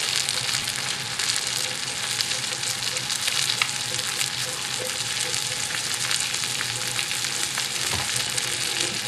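Chicken frying in a pan on high heat gives a loud, dense, continuous sizzle and crackle that stays close and even throughout, with no talking.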